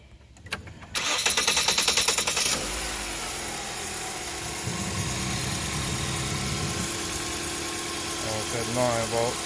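A Ford Focus engine cranks and catches after a battery replacement, then settles into a steady idle that continues for several seconds, with brief voices nearby.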